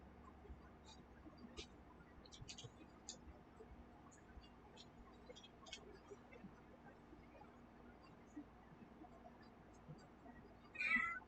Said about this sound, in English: our cat's there